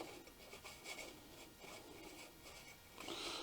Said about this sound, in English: we just rub this over the grate at the bottom